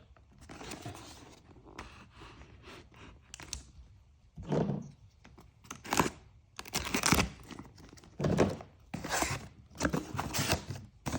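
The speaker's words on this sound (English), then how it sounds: "Gonna open it up, show you guys what's inside." A Push Industries chute deflector control kit for John Deere is being unpacked, with bursts of crinkling plastic, scraping and tearing packaging at close range, coming in irregular rustling spurts between quiet gaps.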